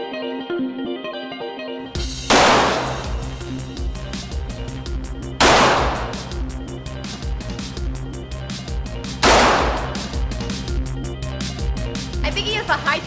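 A Ruger Mark III target pistol with a heavy barrel fires three sharp, loud shots spaced about four seconds apart at an outdoor shooting event, over a steady background hum.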